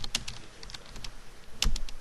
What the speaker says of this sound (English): Go ahead and type in the municipality again.